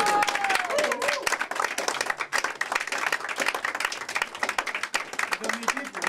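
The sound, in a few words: audience applause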